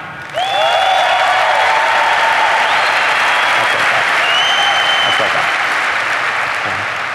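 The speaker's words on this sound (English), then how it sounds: "can you clap for me?" A big keynote audience at the INBOUND 2014 conference bursts into loud, sustained clapping and cheering, a dense roar that starts abruptly and holds steady, with some whistles rising over it.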